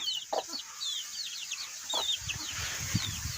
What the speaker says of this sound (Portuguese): Tem uns pintinhos com as galinhas aqui, pescoço pelado.